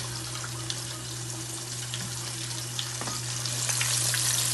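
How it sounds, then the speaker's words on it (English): Homemade chicken tenders deep frying in hot oil make a dense, continuous bubbling sizzle with scattered crackles and pops over a steady low hum. The sizzle grows slightly louder toward the end, and no one talks. "And let that fry"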